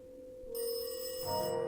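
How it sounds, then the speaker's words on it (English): A payphone rings in the Silent Hill 2 game explored in VR, a quiet electronic trill that holds steady and grows a little fuller near the end, with no talk over it. "Oh, the payphone."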